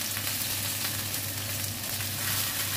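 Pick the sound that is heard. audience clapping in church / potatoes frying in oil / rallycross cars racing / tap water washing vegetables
potatoes frying in oil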